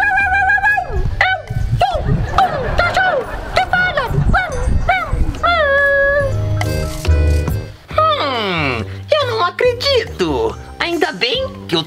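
A voice imitates a dog, giving repeated yips, barks and whimpering whines with rising and falling pitch, mixed with playful talk and background music throughout.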